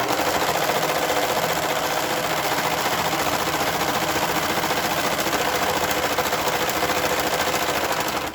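A serger sewing machine runs steadily for about eight seconds, stitching fabric for a reusable grocery bag, with a loud, even whirring hum and no talking.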